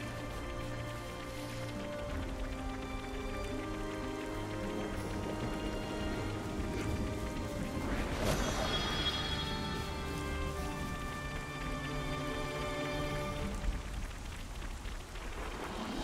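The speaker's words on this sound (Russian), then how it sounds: "дождь что-то, по-моему, сейчас закончится." Steady rain falls in the video game Xenoblade Chronicles 3, a soft continuous hiss of drops on surfaces with a faint low rumble, quiet and unbroken with no talk over it.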